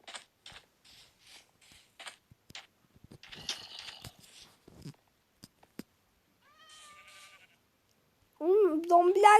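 A drawn-out, wavering Minecraft sheep bleat rises loud near the end, after quieter game noises and a few short chirps and clicks.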